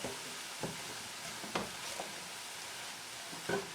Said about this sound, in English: chopped onions in here as the meat's cooking.